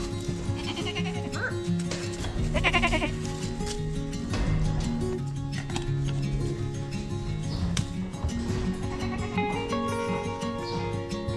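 Goats bleat repeatedly in a back pasture along a fence line on a commercial goat farm, several wavering calls of varying pitch over someone talking throughout.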